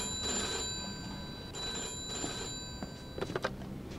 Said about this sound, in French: on va répondre au téléphone.